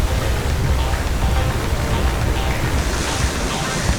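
Rushing water and crashing waves in a virtual reality tornado disaster scene make a dense, loud, continuous roar with a gusty, wind-like texture and no pauses.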